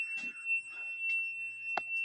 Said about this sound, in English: The alarm is back and you're gonna get a headache.